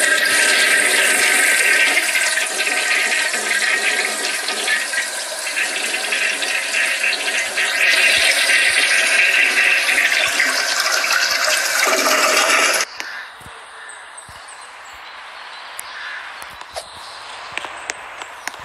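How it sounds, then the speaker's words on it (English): A 1970 Kohler Highline toilet in a Roblox game flushes loudly in a long, close rushing swirl that cuts off abruptly to a quieter refill trickle with faint knocks. "Come on, flush."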